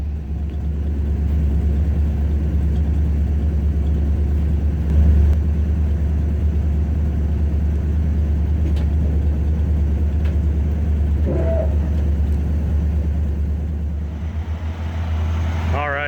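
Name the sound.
Ford F-100 truck engine idling on a cold start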